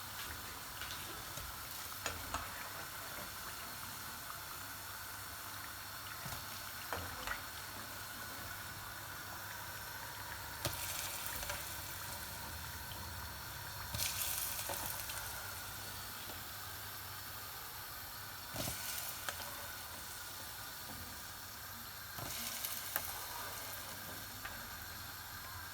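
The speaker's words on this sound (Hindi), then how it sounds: "पकोड़े हमारे तैयार हो गए हैं और मैं इन्हें अब कढ़ी में डाल रही हूँ।" Pakoras dropped one by one into simmering kadhi in a home kitchen, giving a steady low sizzle and bubbling hiss with occasional splashes and stirring clinks, no talking.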